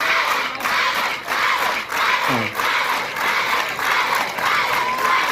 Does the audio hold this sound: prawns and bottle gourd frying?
no